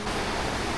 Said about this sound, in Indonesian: sepertinya kita sudah mulai dekat dengan air terjun Kapas Biru